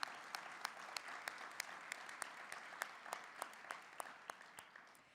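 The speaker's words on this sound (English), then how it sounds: "please give a round of applause for our moderator, Mr. Doug Kreidler, and our world-class storytellers" Applause from the audience at a Vietnam War veterans welcome-home ceremony in a museum, sustained clapping from a crowd with a few distinct sharp claps standing out over the steady, fairly distant wash.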